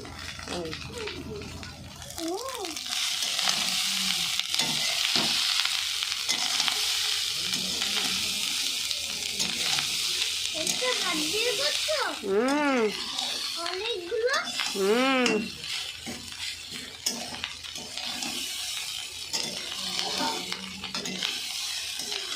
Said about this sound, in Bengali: দেখো আমি ভাত ভাজছি, ভাত ভাজা করছি।